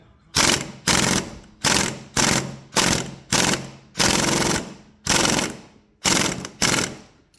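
Loud, close hammer strikes on the clutch nut of a 1961 Harley-Davidson FL Panhead, about ten sharp metallic blows in a steady rhythm, each one ringing briefly before the next.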